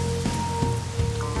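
Steady rain falls in the video game Days Gone, a dense even hiss over a low constant tonal hum, with no talking.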